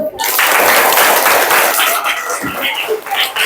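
Students in a classroom clap together in a dense burst of applause that fades slightly toward the end, with voices mixed in.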